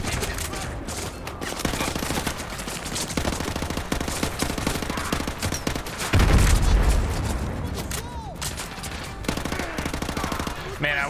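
MP5 submachine gun bursts in Call of Duty Modern Warfare 2 Remastered rattle in rapid, repeated volleys amid heavy battle noise and one deep boom, with a voice talking now and then.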